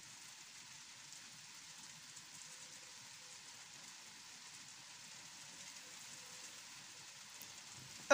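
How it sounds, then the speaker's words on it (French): Steady moderate rain falls in Bellême, a faint, even hiss of drops on surfaces that holds unchanged throughout with no voices. "Forte pluie là plutôt."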